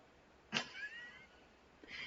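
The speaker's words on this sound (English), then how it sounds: "She just meowed and then yawned at the same time." A house cat gives a quiet, close meow that stretches into a yawn, a short rising-and-falling vocal sweep followed by a faint second sound after a brief pause in a quiet room.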